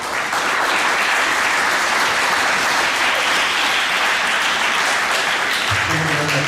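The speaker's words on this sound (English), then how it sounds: "Please give these guys a big round of applause" Sustained audience applause fills a school awards assembly hall, dense and steady throughout, with a faint low tone near the end.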